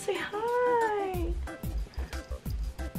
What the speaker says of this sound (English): This is my kitty cat Grudvu.